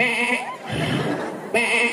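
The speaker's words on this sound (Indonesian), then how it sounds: "Itu bu kambing." A goat bleats loudly at close range in two wavering, nasal calls, with a rougher noisy stretch between them.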